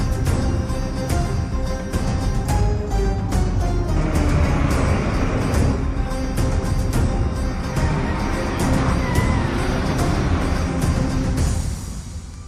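A heavy container truck rumbles past in a steady, loud, broadband roar that lasts several seconds before tapering off, with no talk over it.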